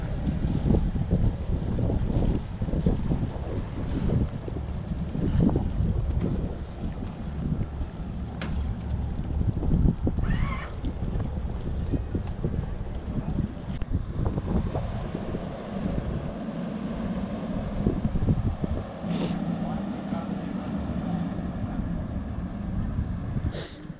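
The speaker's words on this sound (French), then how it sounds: "Le ferry qui arrive." An arriving ferry gives a continuous low engine rumble for about 24 seconds under steady gusting wind buffeting the microphone, with a few brief knocks and no speech.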